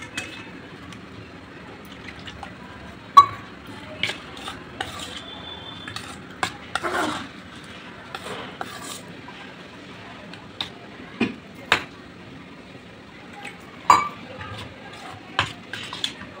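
Buttermilk is mixed into fine semolina for dhokla in a kitchen bowl, giving soft wet stirring under scattered sharp clinks of a spoon against the vessel, some loud and some faint, across a quiet background.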